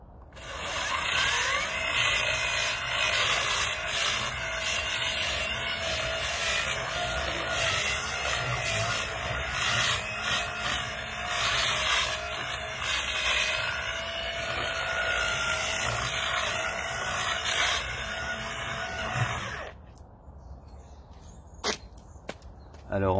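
A Karcher EDI 4 electric de-icer runs continuously at close range with a steady, loud scraping whir for about twenty seconds, then stops, leaving a quieter tail with a few brief knocks.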